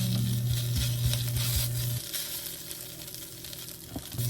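Beef and seaweed stir-fry in a pan for miyeokguk, Korean seaweed soup, with a steady close sizzle that drops to a quieter crackle partway through, broken by occasional scraping stirs.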